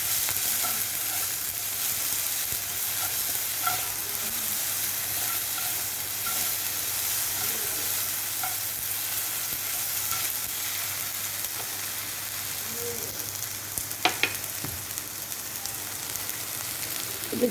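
Onion, garlic and tomato paste sizzle and fry in a pan while being stirred, a steady crackling hiss with occasional scraping of the spoon, close and continuous.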